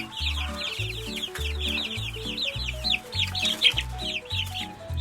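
Rapid high-pitched baby chick peeps repeat steadily over a rhythmic musical beat.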